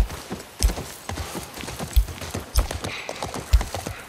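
Horse hooves clip-clopping in a steady, uneven gait while riding in The Last of Us Part I, moderately close and clear, with no talk over them.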